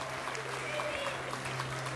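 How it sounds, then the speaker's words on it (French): Audience at an award ceremony for a social reintegration prize applauds steadily, a dense, even wash of clapping filling the hall without pause. "On peut vraiment les applaudir."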